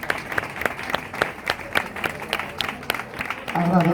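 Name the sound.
audience applause at an awards ceremony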